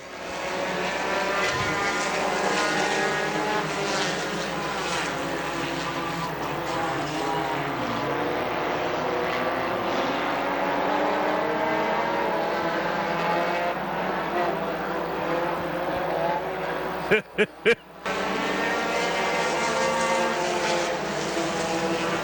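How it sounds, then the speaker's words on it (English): Race cars roar loudly around the track at Dixie Speedway during a Stinger Championship event, with a continuous engine drone and a brief dropout near the end. "That number 87 car, the yellow machine, Chris Woodall."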